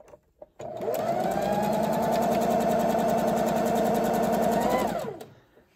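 A sewing machine runs a straight stitch diagonally across fabric strips for a farmhouse jelly roll rug, one steady whirring run of about four seconds with a ramp up and wind down, alone and close.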